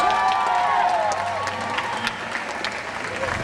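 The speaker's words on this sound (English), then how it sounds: "Let's do a big round of applause." A crowd applauds and cheers for a competitor at an outdoor event. The clapping is steady throughout and runs under people talking nearby.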